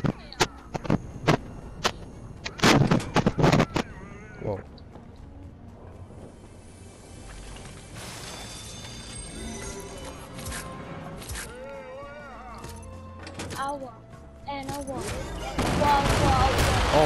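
Bursts of charged-shotgun gunfire in a Fortnite squads match, sharp loud blasts clustered early then scattered amid game noise and explosions, with players talking over the action.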